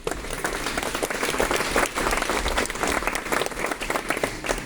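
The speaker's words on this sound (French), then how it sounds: "on peut les applaudir" Audience applause at the inauguration of a new aikido dojo in Haguenau: dense, sustained clapping from a sizable indoor crowd, steady throughout with a faint murmur beneath.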